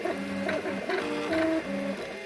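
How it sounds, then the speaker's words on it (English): A 3D printer runs steadily, its stepper motors whining in shifting tonal notes over a constant mechanical hum, close and alone with no talk. "The next video will be the finished article off the printer."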